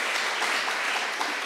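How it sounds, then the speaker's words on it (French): Dense, steady applause from an audience fills the whole moment without a break. "On l'applaudit, s'il vous plaît."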